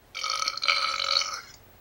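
Belch sound effect played from a fart sound app on a Palm Pre phone, one drawn-out, tinny burp lasting over a second, loud and close with a slight break midway.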